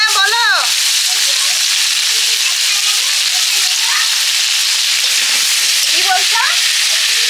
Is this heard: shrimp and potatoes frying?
yes